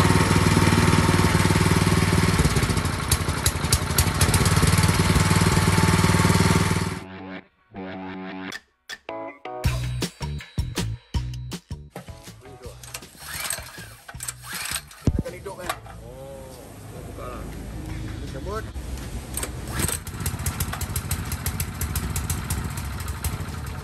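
An Ogawa 7HP high pressure engine pump, model OH50E, runs loudly with a steady buzzing drone for about seven seconds, then cuts out, followed by scattered close clicks, knocks and handling noises.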